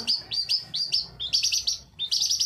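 A long-tailed shrike chirps in quick repeated high-pitched bursts, clear and close, forming a lively rhythmic series with brief pauses between phrases.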